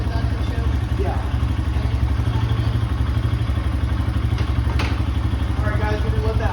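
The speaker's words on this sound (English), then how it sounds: "we're gonna let that idle just for a few extra minutes here" A Honda CRF150F dirt bike engine idles steadily and close by after an oil change, a continuous low rhythmic putter with occasional light clatter and thumps, and no talking over it.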